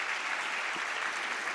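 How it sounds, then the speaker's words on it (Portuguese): A church congregation during a worship service claps together in strong, sustained applause, a dense, steady sound from many people filling the room without speech. "dê uma grande salva de palmas."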